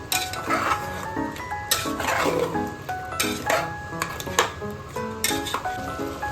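Garam masala stirred through chicken pulao in a pressure cooker, a metal spoon scraping and clanking against the pot in repeated bursts, close and fairly loud, with faint sizzling underneath and no speech.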